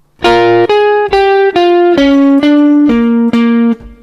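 Electric guitar plays an intro lick, eight loud, bright, distorted notes or double-stops picked evenly and stepping downward, close and unaccompanied before ringing off.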